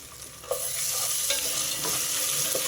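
Onions fry in a pan with ginger garlic paste, giving a steady close sizzle broken by a few sharp scraping stirs of a utensil.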